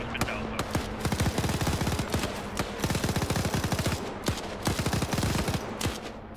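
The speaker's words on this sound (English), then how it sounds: "There goes that machine gun." Machine gun firing in a Sierra Leone civil war tactical video game, rapid sustained bursts of loud automatic fire with brief pauses between strings, dense and continuous throughout.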